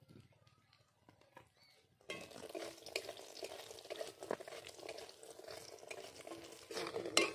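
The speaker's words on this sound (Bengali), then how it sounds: "আমি এবার ওই তেলে বড়িগুলো ভেজে নেব" Lentil dumplings (bori) fry in oil, first a faint quiet stretch, then a sudden sizzle that stays rough and crackly, with spatters and stirring scrapes throughout.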